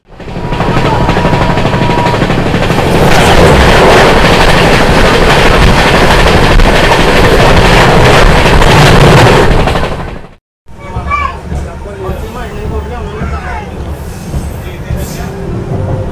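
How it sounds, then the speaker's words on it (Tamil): Trains on the opposite track roar past up close for about ten seconds, a loud continuous rumble of wheels and cars, then cut off sharply; a quieter rumble with scattered rattles follows. "இப்போ ஆப்போசிட்ல நம்மளுக்கு அதிரடியான ட்ரெயின்ஸ் வந்துகிட்டு இருக்கு"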